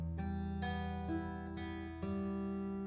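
Open strings are fingerpicked on a guitar for a song intro: five plucked notes that ring over one another, quiet and close.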